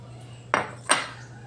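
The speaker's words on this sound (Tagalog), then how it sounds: "Halo lang na ang mabuti. Kailangan yung saging i durog" A spoon clinks twice against a bowl while mashed banana is stirred for yema, two sharp close taps about half a second apart over a faint steady hum.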